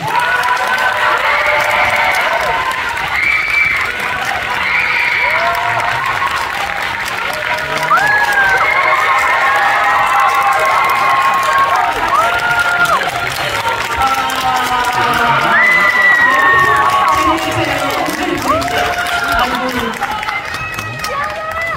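A large cinema audience applauds and cheers for a film's director and cast at a screening Q&A, dense sustained clapping with scattered whoops and shouts, loud and close, swelling slightly toward the end.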